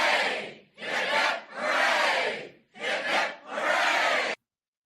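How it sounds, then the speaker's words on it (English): A studio audience gives three rousing cheers in a row, each a loud burst of shouting voices separated by short pauses, ending abruptly. "Let's give him 3 cheers."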